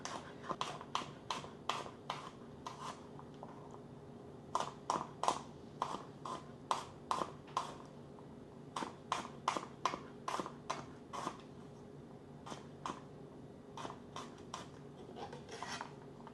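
A knife slices through produce on a cutting board while preparing a one-pot pasta dish, giving quick repeated rasping strokes in bursts with short pauses, close and fairly quiet.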